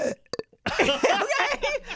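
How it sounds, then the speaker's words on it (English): A short nervous belch from a woman, two quick guttural bursts near the start, followed by close-up laughing talk. "I deflected with a nervous belch."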